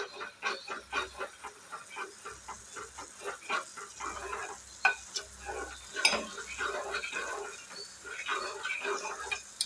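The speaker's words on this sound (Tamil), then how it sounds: "நல்லா கிண்டிகிட்டே இருங்க" Thick ragi porridge stirred in a pot, with repeated scraping and soft bubbling plops under occasional speech nearby.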